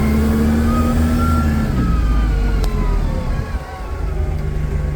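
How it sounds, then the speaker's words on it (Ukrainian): A 2019 Toyota 02-8FDJF35 diesel forklift drives and accelerates, its diesel engine rumbling loud and close with a rising whine, then the note drops and settles into a steady idle-like drone. "Додаємо тяги при потребі і навантажувач пришвидшується."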